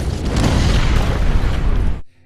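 A fiery explosion in a Joker story, heard as a loud, sustained booming roar with heavy low rumble lasting about two seconds before cutting off abruptly into near silence.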